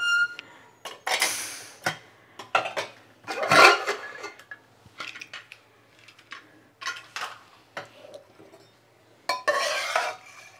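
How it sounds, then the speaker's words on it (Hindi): A pressure cooker holding cooked bottle gourd is opened in a home kitchen, with a string of sharp metallic clinks, scrapes and knocks from the lid and utensils, some clustered and some spaced apart. "अब हम कुकर का ढक्कन खोल लेंगे।"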